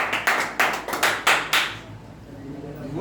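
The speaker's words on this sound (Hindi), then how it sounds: "ताली बजेगी इस बच्चे के लिए" An audience claps for a child, a short burst of five or six loud, rhythmic hand-clap volleys that stop abruptly, leaving a quiet tail with faint murmuring.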